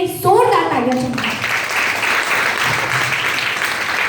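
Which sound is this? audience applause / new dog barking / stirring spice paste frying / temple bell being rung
audience applause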